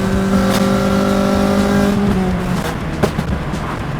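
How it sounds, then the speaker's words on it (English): A Honda Civic EP3 Type R engine revving, its steady high harmonic drone climbing as VTEC engages, loud and close, then easing off into a rougher rumble near the end. "Feels alright, VTEC's engaging."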